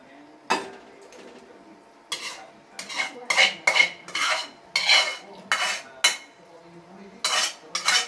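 Utensils stirring drained pancit canton noodles into sauce, a run of irregular wet clinks and scrapes against the pan, close and fairly loud, with no talking.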